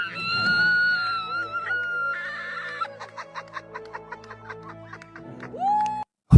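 A woman in an empty theater shrieks in excited adoration, high-pitched, with wavering squeals that break into giggly, rhythmic yelps, close and loud.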